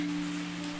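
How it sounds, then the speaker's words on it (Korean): Steady rain falls without pause on a rainy day at a construction site, a dense, even wash of hiss close by with a low steady hum beneath and no voices. "계속해서 비가 내리고 있습니다."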